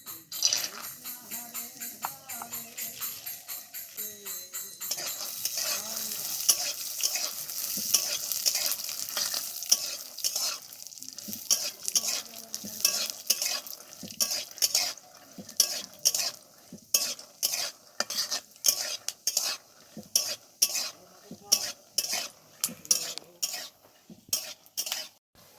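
Peanuts fry in white oil in a pan for crispy chire bhaja, with steady crackling sizzle and repeated scraping stirs that become rhythmic, loud clinking strokes in the second half.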